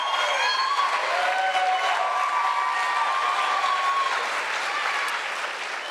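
Sustained applause from a large crowd at a 2024 college commencement, loud and steady with scattered cheers and whistles, gradually easing toward the end.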